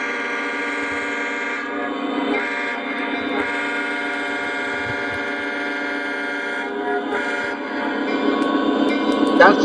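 An O gauge model SD40 locomotive rolls through a grain yard layout with a steady, loud electric motor hum and layered whine, growing slightly louder toward the end.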